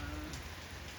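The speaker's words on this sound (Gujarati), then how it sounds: "કારણ કે વરસાદ ચાલુ જ છે ઓલરેડી" Rain falls in a steady, soft patter on surfaces during a monsoon shower, faint and continuous, with no voices.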